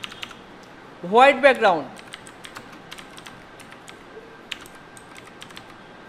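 Computer keyboard typing during a graphic design software session, a scatter of light, fairly faint key taps spread across the clip, with a short burst of speech in the middle.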